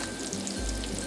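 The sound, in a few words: onions being added to a frying stir-fry pan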